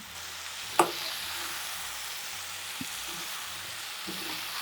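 Pumpkin pieces fry quietly in a pan for a Telugu pulusu, giving a soft, even sizzle with one sharp utensil tap near the start and a couple of faint knocks later.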